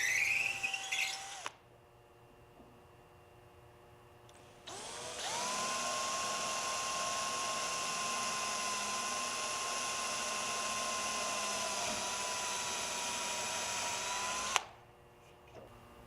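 A small power drill whirs up and runs steadily at high pitch for about ten seconds, drilling pilot holes through an airfoil and wood plug, then stops; a brief higher whine precedes it.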